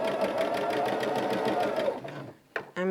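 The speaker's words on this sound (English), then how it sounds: "Now I'm so excited to sew these top 2 rows together" Sewing machine stitching quilt rows together, a loud, fast, even mechanical whir that runs steadily and then stops abruptly, followed by a few handling clicks and a brief voice.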